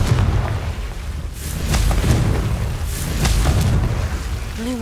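Confringo blasting spell cast in the Hogwarts Legacy video game, producing deep rumbling booms and bursts that swell and roll on continuously, with brief crackling hits layered over a heavy low drone.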